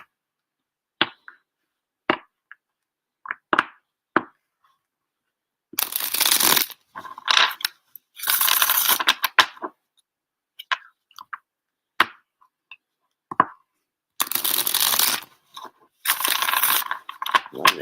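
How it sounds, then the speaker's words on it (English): A deck of reading cards shuffled by hand, giving several crisp riffling bursts of rapid paper flutter with scattered light card taps and clicks in between, close up and otherwise quiet. "Love this deck. It shuffles so well."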